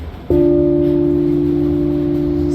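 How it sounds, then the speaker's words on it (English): Large swinging C bell, the deepest swinging bell at the National Carillon in Canberra, pushed once, giving a single loud, close strike that rings on with a steady, slowly fading hum. "this is C. So in terms of swinging bells, they don't get deeper than that."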